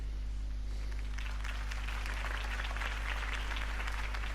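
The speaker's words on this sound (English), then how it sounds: "could have heard that applause" Steady crowd applause and cheering at moderate distance in a Batman video game, continuous throughout over a low constant hum.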